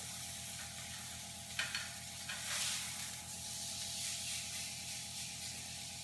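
Steak searing on a grill after being flipped: a steady close sizzle and hiss runs throughout, with a brief louder burst of spatter near the middle as the meat hits the hot grates.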